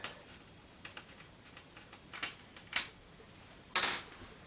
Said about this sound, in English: Just remove the screws to take that blanking plate off.